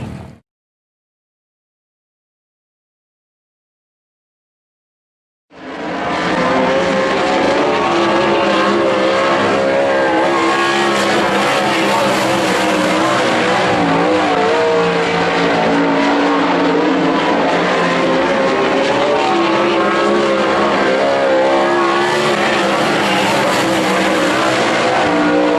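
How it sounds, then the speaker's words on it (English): A pack of 360 sprint cars roaring around Skagit Speedway in a heat race, a sustained loud engine howl rising and falling as the field passes, following several seconds of near silence. "here we go with Heat 1 racing action for your 360 sprint"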